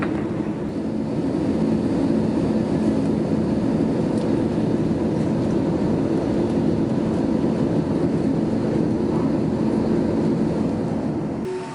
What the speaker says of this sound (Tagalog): We are now on our final approach. Please check that your seatbelts are securely fastened.